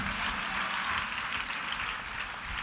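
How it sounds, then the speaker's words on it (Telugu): A church congregation applauding together in praise during a sermon, a dense, steady wash of many hands clapping for several seconds without spoken words. "చప్పట్లు కొడుతూ దేవునికి స్తోత్రం చెప్పండి."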